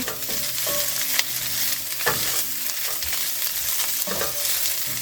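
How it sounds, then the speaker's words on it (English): Mushrooms sauté in a pan in a travel trailer kitchen, giving a loud, close, steady sizzle with a few brief scraping stirs. "the mushrooms are going to deglaze this pan"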